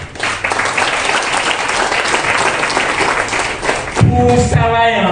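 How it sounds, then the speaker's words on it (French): An audience at a university rector's speech applauds loudly, dense clapping sustained for about four seconds before a voice speaks over the fading applause. "Nous demandons à l'Assemblée de l'applaudir pour son courage"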